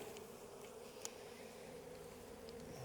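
Honey bees buzzing around an opened hive during a November mite check, a low steady drone with a faint, even hum throughout and a brief tick partway through.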